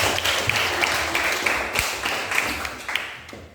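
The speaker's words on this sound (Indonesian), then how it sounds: "tepuk tangan untuk kamu semua" Students in a classroom maths lesson on trigonometry applaud together, a loud, dense patter of many hands clapping that carries on for a few seconds, with no talking.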